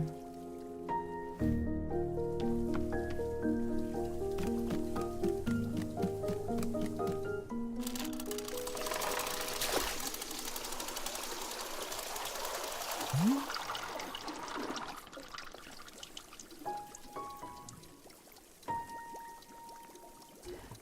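In a video game, water pours from a rope-operated machine as a sustained splashing, rushing pour midway through, set over tonal game music with scattered plinks and drips.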